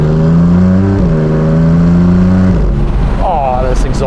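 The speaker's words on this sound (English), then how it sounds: "oh, this exhaust." A Novitec-tuned Maserati MC20 Cielo with a 3-liter twin-turbo V6 revs hard through its exhaust, loud and close, with a steady high-revving drone that drops off before a rising pull as speech begins over it.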